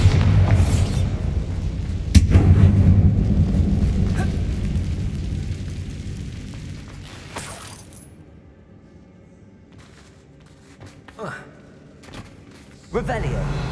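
Magical Bombarda and Confringo blasts in an abandoned mine in Hogwarts Legacy: a few sharp, loud booms with crackling bursts and rumbling, spaced over several seconds, later quieter with scattered pings, voices calling out spells between them.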